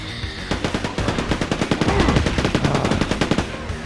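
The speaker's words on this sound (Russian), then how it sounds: "с этим пулеметом я себя чувствую как в Думе" Rapid machine gun fire in Quake 2 on the PlayStation, a steady fast stream of loud, evenly spaced shots lasting about three seconds after a brief quieter start.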